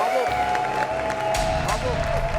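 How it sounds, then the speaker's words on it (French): A studio audience on a French TV show claps continuously in applause, steady and close, while a tonal music cue plays and voices talk over it. "Moi en tout cas, je me lève pour t'applaudir"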